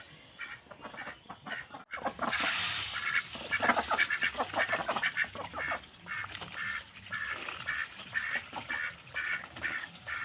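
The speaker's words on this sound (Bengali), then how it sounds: "দেখো খাবার দেখে হাঁসগুলো প্যাক পাক শুরু করে দিয়েছে" A flock of farmyard ducks quacks excitedly at feeding time in a rural home, loud overlapping quacks bursting in suddenly after a quiet start and continuing in a rapid, pulsing chorus close by.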